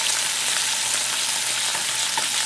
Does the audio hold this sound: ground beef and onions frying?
yes